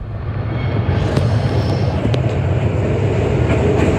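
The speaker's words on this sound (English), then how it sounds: "we're on the tram now to Spencer Street" An old tram rolls through Melbourne's CBD with a steady, loud rumble and rattle of wheels on rails, occasional faint clicks over the track, heard from on board with no talk.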